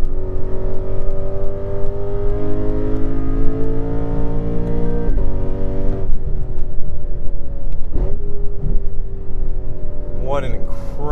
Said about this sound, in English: What an incredible exhaust note.